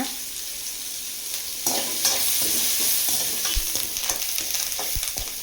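About thirty small shallots with curry leaves sautéing in a pan for fish puttu, with a loud, dense sizzle and repeated scraping and knocking of a spoon against the pan as the mixture is stirred.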